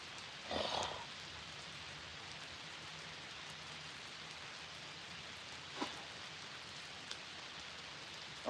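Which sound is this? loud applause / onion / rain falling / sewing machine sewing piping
rain falling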